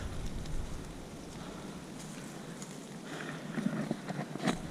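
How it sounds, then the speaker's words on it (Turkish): Soft, steady patter of light rain over a broad hiss in the mountains, with a few faint clicks and taps toward the end. "Biraz yağmur başladı."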